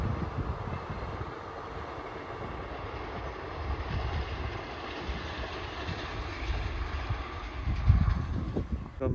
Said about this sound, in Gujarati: અહીંયાથી ટ્રેન જાય છે